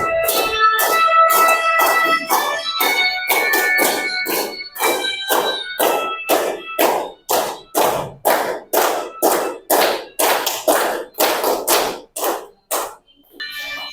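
Children sing a clapping song about the signs of growing up, with a rapid, regular train of sharp hand claps keeping time under their voices, loud and close throughout.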